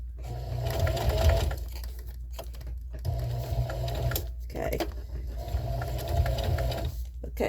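Sewing machine stitching with the presser foot lowered while making a jar gripper, a steady close mechanical hum in three bursts separated by brief pauses, with faint talk underneath.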